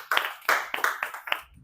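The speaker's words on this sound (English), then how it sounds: "So please give yourself a big round of applause" A small group in an Ubud workshop claps briefly, a few distinct sharp hand claps in uneven rhythm, close and fairly quiet, fading out quickly.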